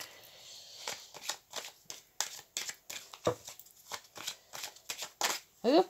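Tarot cards shuffled by hand at close range, a fast run of crisp riffling flutters and slaps, ending with a card being drawn.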